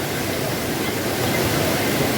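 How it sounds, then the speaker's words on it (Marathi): Waterfall in the Malgund Nivendi area in heavy flow, a dense, loud, unbroken roar of rushing water heard close up. "धबधब्याला फ्लो बघा मोठा फ्लो आहे एकदम पाणी जोरात येत आहे"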